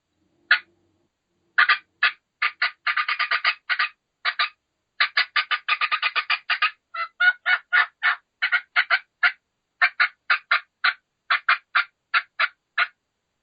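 A hand-operated turkey call mimics a hen with fast cutting and yelping: sharp, clipped high notes in quick irregular bursts and runs, close and loud against total silence.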